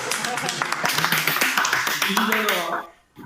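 Scattered hand claps from an audience at a startup awards ceremony, sharp taps pattering beneath a person talking over a microphone, fading out near the end.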